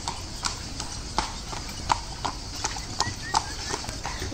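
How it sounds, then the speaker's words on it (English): Horse hooves clip-clop on a street in Seville, Spain, as a steady, evenly spaced run of sharp knocks. Faint city background and distant voices sit underneath. "Got interrupted by horse."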